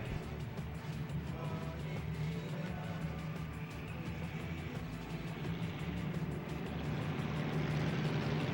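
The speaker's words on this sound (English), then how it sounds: "16 cars get ready to go 15 laps in our Valvoline Motor Oil Street Stock C feature as Mighty Mike Powers puts them on their fin" Sixteen street stock race cars rolling on a pace lap at a dirt track, a steady rumbling drone of engines at moderate distance, continuous and gradually building slightly louder toward the end.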